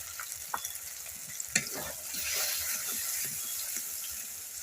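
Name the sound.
spice paste with turmeric, yogurt and mustard being sautéed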